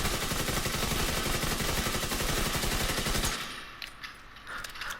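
The capacitor weapon firing in The Division 2, a dense, rapid stream of shots held continuously for about three seconds before cutting off into quieter tail sounds.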